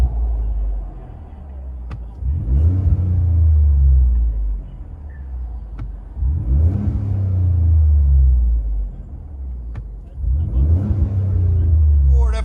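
A Ford F-150 with an EcoBoost V6, muffler deleted but resonator kept, sends out a deep, loud exhaust rumble that swells in three repeated revs, each rising and falling, heard up close with a low steady idle between.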